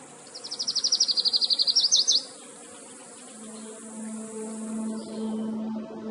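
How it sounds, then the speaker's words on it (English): A warbler sings near a desert river wash, a rapid series of high, bright repeated notes accelerating into a trill for about two seconds, then fading to a quiet background with a low steady hum. "Warblers sing from desert rivers and washes, ribbons of green across arid land."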